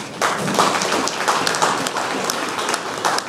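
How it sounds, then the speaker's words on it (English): A scattered indoor audience claps at a building's grand launch event in Chennai, producing a moderate steady patter of applause with no voices. "The claps seem to come only from this left-hand side"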